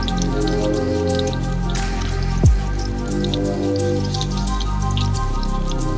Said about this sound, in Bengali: একটা একটা করে আমি ঝিঙেগুলোকে বেসনের ছেড়ে দিয়ে তেলে ছেড়ে দিচ্ছি ওগুলোকে আমি ভালো করে ভেজে নেব